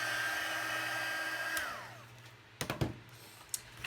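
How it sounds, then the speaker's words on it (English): Heat tool setting embossing powder on a stamped card, a steady blowing whoosh for about a second and a half before it cuts off, followed by a few close handling clatters and taps. "I am going to heat set this and I'll be right back."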